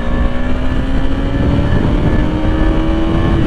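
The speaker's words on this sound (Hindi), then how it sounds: "भाई, क्या चल रही है बाइक मस्त।" A motorbike cruising steadily along a smooth paved road after an off-road stretch, its engine drone loud and continuous with a faint rising whine and wind rush throughout, no talk over it.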